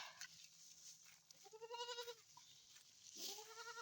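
A young black goat, a kid, bleats twice, each a wavering, harmonic cry up close, with a soft hum and outdoor rustle between calls.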